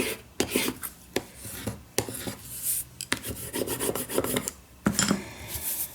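Paper in a journal is burnished with a hard tool, producing close, quiet scratchy rubbing strokes broken by sharp taps and short pauses, uneven in rhythm.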